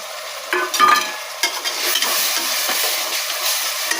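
Ginger garlic paste sizzles steadily in a hot pan over onions for egg biryani, with a spoon scraping and stirring in a few louder strokes, close and continuous with no talking.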